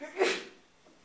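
A single sharp sneeze near the start, loud and close, fading quickly into quiet room tone during a classroom lecture on tangent lines.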